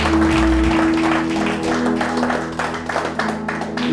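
A church congregation applauding: loud, dense clapping from many hands that begins at full strength and thins slightly toward the end, over a sustained organ-like tone.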